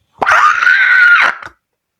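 A woman's long, loud scream, sustained for over a second and ending abruptly, alone with no talk.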